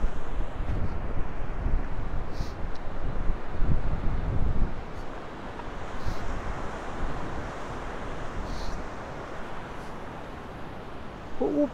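A mountain stream flows beneath boulders along a trek, a broad continuous rushing of water, with wind buffeting the microphone and no talk.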